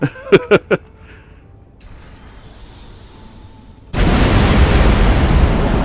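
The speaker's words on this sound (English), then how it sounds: "I forgot about the loud explosions." A few short bursts, then quiet, then a sudden loud broadband roar of noise from a blast in the video game Star Trek Online that holds steady to the end.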